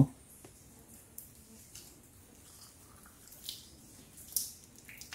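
Water drips inside a cave passage, a few faint isolated plinks and small splashes spread over quiet, hollow background noise, with no voices present.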